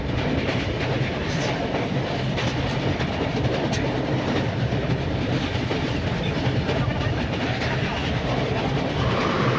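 A passenger train rolls steadily along the rails on a journey from Ayodhya toward Prayagraj, its constant rumble and rhythmic clatter of wheels loud and close throughout, with no voices over it.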